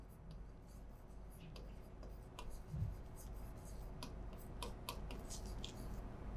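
Chalk or marker writing on a board, faint intermittent scratches and taps over a steady room hum, with a brief low murmur midway.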